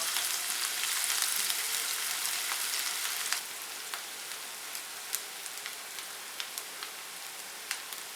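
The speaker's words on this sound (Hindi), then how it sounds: "पैन में डालेंगे 2 से 3 टेबल स्पून ऑयल, एक छोटी चॉप प्याज को सिर्फ सॉफ्ट करेंगे" Small chopped onion softens in two to three tablespoons of oil in a pan for a beef crepe filling, a loud, steady close sizzle with scattered pops and crackles that eases slightly partway through.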